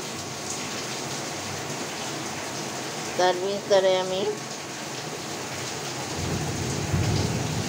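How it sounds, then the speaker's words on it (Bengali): Heavy rain pours steadily outside with a low rumble of thunder late on, while someone speaks briefly over the downpour. "প্রচণ্ড বৃষ্টি হচ্ছে বাইরে"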